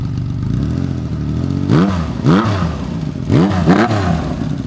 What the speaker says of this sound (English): Listen to the exhaust on this thing.